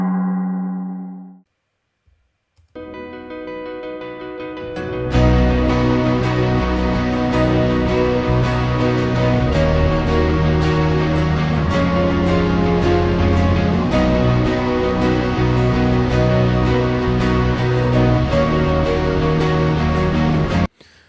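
Full band mix of distortion guitars, vibraphone, organ, synth and bass guitar: a brief soft tonal intro, then a loud, dense wall of layered sustained chords with steady rhythmic accents, the organ and synth blending with the guitars.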